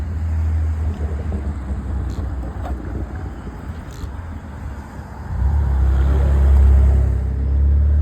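A 12S belt-drive XRT RC car with a 1100kv Hobbywing motor on 44.4V drives steadily with a constant drone, then surges louder and lower around the midpoint as it accelerates hard.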